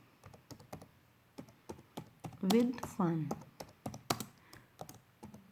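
Computer keyboard typing while entering text into a PowerPoint slide placeholder, a run of light, close key clicks under a man's speech.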